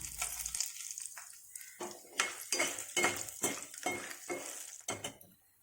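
Lentils and dried red chillies stirred in a pan for Turkey berry chutney, giving a steady run of scraping metallic clinks and scrapes of a spoon against the pan, close and fairly loud, with no talk.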